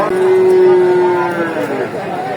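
A cow's long, drawn-out moo rises over a noisy outdoor crowd at a livestock market in Gabtali, Bogura, on a day of heavy rain, close and steady, with general chatter and bustle continuing beneath it.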